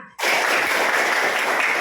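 A classroom of students breaks into sudden loud applause, dense clapping that starts sharply and holds steady, close and filling the room.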